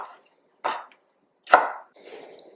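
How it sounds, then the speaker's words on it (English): Ginger being chopped with a knife on a cutting board, three crisp, close knife strikes spaced about a second apart in an otherwise quiet kitchen. "I'm going to start off by chopping my ginger, which will make it easier for the food processor to get through it."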